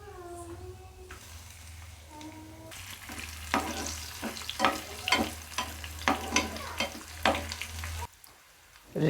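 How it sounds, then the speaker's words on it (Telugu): Spices, curry leaves and crushed garlic tempering in two tablespoons of oil for a chutney set up a steady sizzle that jumps into sharp bursts and pops as more goes in, then cuts off near the end. "చట్నీకి పోపు పెట్టుకుందాం."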